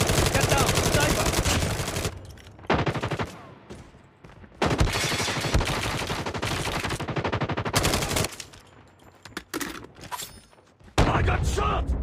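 Bursts of rapid automatic gunfire in the video game Call of Duty Mobile during a ranked Hardpoint match, loud and close, in several long strings separated by brief pauses.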